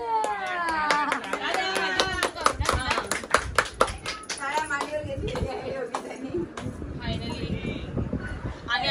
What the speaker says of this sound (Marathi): टाळ्या टाळ्या टाळ्या